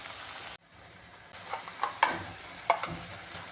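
Beetroot mixed with ground coconut is stirred in a pan for Kerala-style beetroot pachadi, giving soft, scattered scraping and light sizzling strokes after a brief pause, fairly quiet and with no talking.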